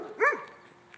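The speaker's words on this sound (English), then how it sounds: "This is going to be a guaranteed another mishmash of mismatched dogs." A single short dog bark, fairly close and clear, from one of a mixed group of dogs near campers and an old truck, followed by quiet.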